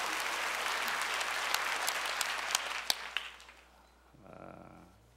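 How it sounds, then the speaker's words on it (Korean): Congregation applause during a Korean church worship service, a dense, steady wash of many clapping hands that fades off near the end, with a few sharper individual claps standing out. "우리 하나님께 큰 박수 올려드리십시오"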